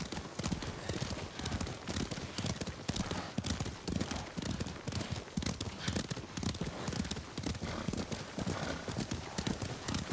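Horses' hooves clip-clop steadily on the ground in Ghost of Tsushima, a continuous brisk trotting rhythm that holds at even loudness for the whole stretch, with no talk over it.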